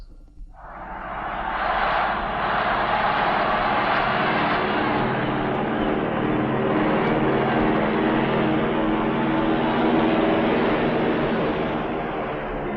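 The Southern Cross, a propeller plane, flies over the Pacific from California toward Honolulu, its engines giving a loud, steady droning roar that swells in and holds unbroken, with no talk.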